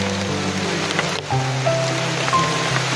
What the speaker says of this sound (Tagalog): Malakas na ulan, mababasa yung dito natin.